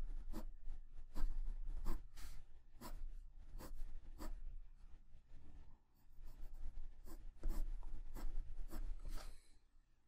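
Colored pencil strokes drawing hair on paper, quick flicking marks in a brisk, repeated rhythm of short scratchy scrapes, close and fairly soft, with no talking.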